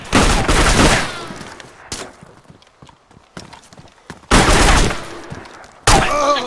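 Gunfire in the survival video game DayZ, several loud bursts of shots separated by quieter stretches of scattered clicks and knocks, close and harsh.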